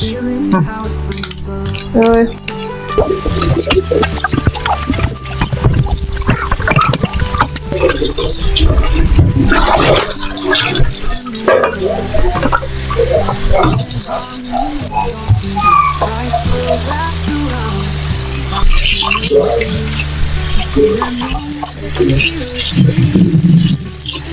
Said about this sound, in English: I'm going to be adding some water to the meat